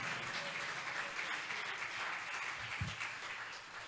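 Congregation clapping in a church during a Bible study on the resurrection, a steady dense wash of hands held at an even level for about four seconds, with one soft low thump near the end.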